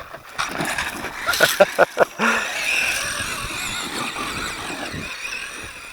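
Gritty scrabbling of a Losi Ultra Desert Buggy RC car's small tires clawing at loose dirt, with a few sharp bursts and a buzzing motor whine rising and fading nearby.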